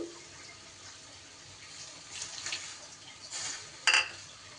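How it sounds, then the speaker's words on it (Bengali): Water is poured into a cooking pot of drumstick (sajne data) curry, making a few short splashing bursts that build toward a brief louder gush near the end. "আরও একটু জল দিয়ে দিলাম"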